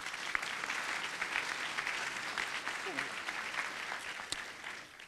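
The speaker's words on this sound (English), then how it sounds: "give them another round of applause" Audience applause at a Wednesday welcome gathering for conference organisers, a steady wash of clapping from a moderate-sized crowd that holds for several seconds before tapering off, heard at a distance and fairly soft.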